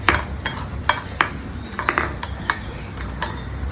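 Chillies are sautéed in a pan for a special fish curry, with a spoon clinking and scraping against the metal in regular sharp taps over a soft background sizzle, no voices.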